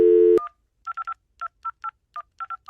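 Telephone number dialed: a short tone ends, then a rapid irregular series of about a dozen clean touch-tone beeps, close and isolated against silence.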